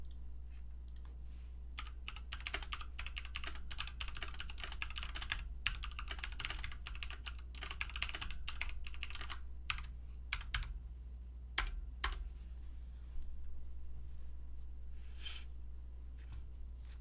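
Steady keyboard typing on a computer, a dense run of quick clicks that thins into scattered keystrokes toward the end, set over a constant low electrical hum in a quiet room.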